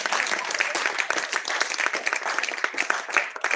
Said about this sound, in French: on va l'acclamer